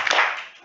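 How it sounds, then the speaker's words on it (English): A grade 8 class of students applauding together in a classroom, a short burst of clapping that swells quickly and then fades away with no talk over it. "Let us flower them, a clap to them."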